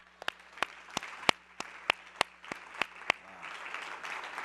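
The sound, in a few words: audience clapping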